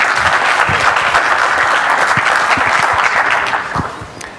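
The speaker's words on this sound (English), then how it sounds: "Let's applaud him." Audience applause for a speaker at the FOSDEM free-software conference, dense sustained clapping from a large crowd that fades toward the end.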